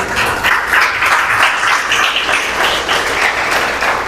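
A church congregation breaks into loud, sustained applause, dense steady clapping filling the room for about four seconds.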